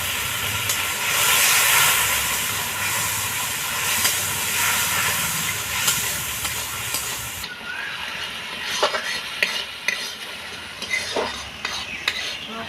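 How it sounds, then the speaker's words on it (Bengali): Spice paste of salt, turmeric and Kashmiri chilli powder sizzles loudly in a pan as a little water is added for fish roe fritter curry with potatoes, a steady hiss easing into softer crackles and stirring scrapes, with no talking. "এবার আমি অল্প পরিমাণে জল দিয়ে মশলাটাকে ভালো করে কষে নেব।"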